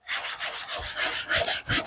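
Close, rhythmic rubbing of sandpaper on wood, quick back-and-forth strokes growing slightly stronger, with no talking.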